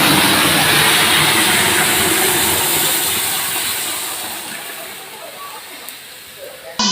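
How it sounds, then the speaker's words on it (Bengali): Boiled potatoes and papaya are poured into a hot pan for a vegetarian curry, setting off a loud, steady sizzle that slowly fades over several seconds and ends in a small clatter. "এবার আমি সিদ্ধ করে যে আলু এবং পেঁপেটাকে সিদ্ধ করে রেখেছিলাম এটাকে আমি ঢেলে দেবো"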